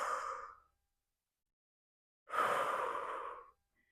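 Two long, breathy exhalations during a yoga spinal twist, close and soft with a clear pause of silence between them, the second one slower and drawn out, no talking.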